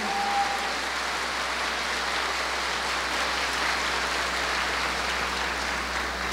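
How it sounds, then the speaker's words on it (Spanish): Church congregation applauding a woman returning to the sacraments, a continuous dense wash of many hands clapping at steady volume, with a low steady hum underneath. "Aplauso."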